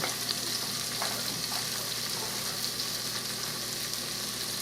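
Food sautéing in a 4-quart pressure cooker gives off a dense, even sizzle that holds steady and close throughout, with faint crackles and no voices.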